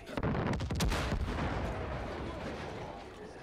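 An enemy fires in Far Cry 5: a burst of rapid gunshots up front, then a dense, rumbling volley that carries on at moderate level with echoing tails, with no talk.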